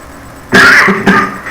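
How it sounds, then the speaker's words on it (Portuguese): Two quick, harsh allergic coughs close to the microphone, the second shorter than the first, with quiet room tone around them. "essa tosse que eu tô é alérgica"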